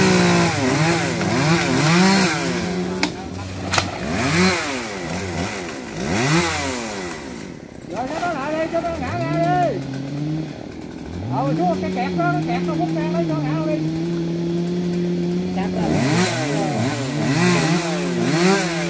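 Chainsaw cutting a tree on a riverbank, its engine revving and falling in long repeated surges, loud and close, with people talking over it.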